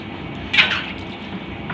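Water splashes and gurgles while rinsing out a flour mill machine, a short burst of pouring and spattering rising over a low background, then trailing off into faint drips.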